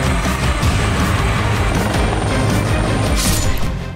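A loud, continuous helicopter roar fills the whole stretch, broad and rushing, with no voices over it.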